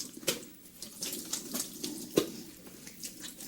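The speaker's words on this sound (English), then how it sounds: "squeegee off all the excess water" Hands squeegee excess water off a wet cat after a bath, giving close wet swishes and dripping splashes in irregular strokes, with a few sharper slaps of water.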